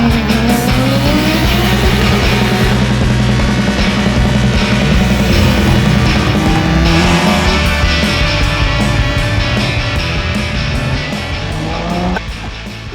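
Hill-climb race cars running ex-IndyCar engines at Prescott Hill Climb scream past loudly, their engine pitch sweeping as they rev and shift, with sustained tire squeal and skidding and no talking.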